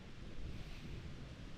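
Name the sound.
wind on a terrace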